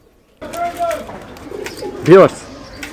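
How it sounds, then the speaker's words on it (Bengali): Giribaz pigeons in a rooftop loft murmur softly, then one gives a single close, distinct coo near the end of a short burst. "কবুতরের জাতের মধ্যে গিরিবাজ অন্যতম কবুতর"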